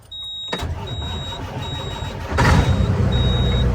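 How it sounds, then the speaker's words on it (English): A sidedump truck's engine cold-starting on a chilly morning near 40°F, catching with a low rumble that swells louder and settles into a steady idle, with repeated high electronic beeps sounding over it. "Little cold start action."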